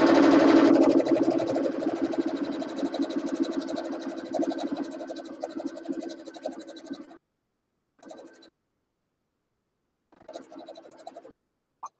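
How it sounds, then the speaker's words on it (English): A sewing machine stitches a pillow case shut in a long, continuous whirring run of about seven seconds. Two short bursts of stitching follow after pauses. No voices are heard. "I'm just going to stitch this shut so I don't have any"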